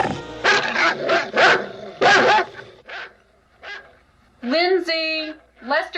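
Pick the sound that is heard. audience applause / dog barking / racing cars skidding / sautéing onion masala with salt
dog barking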